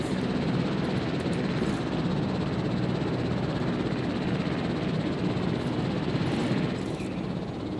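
A helicopter in the video game Jurassic World Evolution, a steady loud whirring engine drone with rotor noise that runs continuously with no talk.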